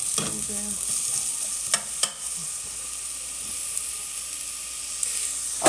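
Ginger, onion and garlic sauté in a pan for butternut squash soup, a loud, hissing sizzle close by, broken by a few scraping stirs and knocks of the utensil, with no talking.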